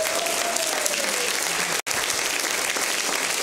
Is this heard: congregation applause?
yes